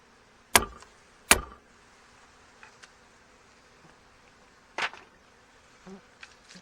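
Honey bees buzzing at an opened hive just returned from the bush, a low steady hum broken by a few sharp knocks and clicks of hive parts, close by with no talking.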